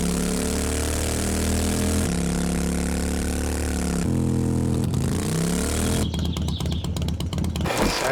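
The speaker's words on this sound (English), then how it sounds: "The motorcycle's my favorite so far." A motorcycle engine in the 7 Days to Die video game idles and revs, its pitch climbing and dropping in several swells, with a burst of sharp clattering noise near the end.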